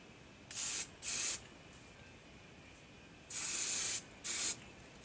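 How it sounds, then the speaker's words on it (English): Hairspray from an aerosol can sprayed onto green-tinted sawdust for a model vignette: four short hissing bursts, two close together, a pause, then two more, near and loud over a quiet room. "spray some hairspray on it."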